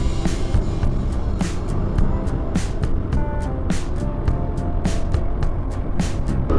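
A lightweight Suzuki 125cc scooter, weighing 105 kg, is being ridden with a continuous engine and road rumble. Sharp ticks recur throughout, and no voices are heard.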